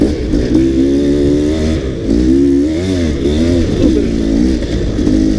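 Dirt bike running a Shinko front tire engine revving up and down on the Boundary Trail loop in Gifford Pinchot forest, a loud, close, continuous engine note with repeated rising and falling pitch sweeps.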